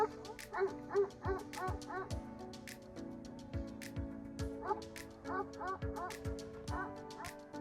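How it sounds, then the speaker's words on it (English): A shepherd dog barks at wild boars in rapid, loud, repeated yelps and barks in uneven bursts, with other animal yips and whimpers mixed in close by. "He rushed towards them and started barking"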